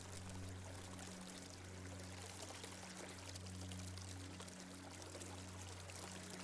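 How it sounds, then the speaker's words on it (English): River water flows in a steady, unbroken rush, soft and continuous with no pauses, joined by a low steady hum beneath it. "Pay attention to the water sound for some time just to calm your mind immediately."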